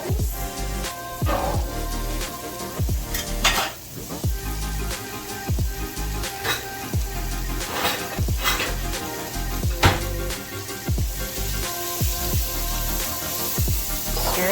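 Carrots, onions and celery sauté in a pan with bone-in osso buco drippings. A steady close sizzle runs the whole time, broken by repeated scraping stirs and clinks against the pan.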